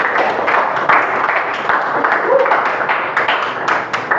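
A classroom of students claps for a correct answer to a math question, dense steady applause filling the whole stretch at close range with scattered sharper individual claps.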